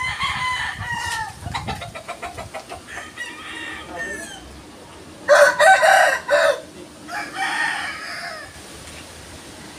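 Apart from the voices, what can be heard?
chicken clucking and rooster crowing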